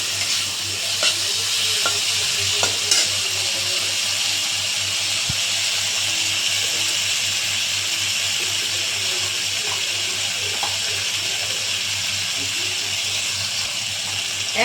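Rohu fish fries in a pan with green and dried chili paste, giving a steady, close sizzle and hiss with occasional light stirring clicks throughout.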